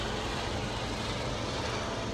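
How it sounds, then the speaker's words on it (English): A searchlight helicopter flies overhead with a steady, broad rumble, a constant droning whir with no voices. "Searchlight helicopter."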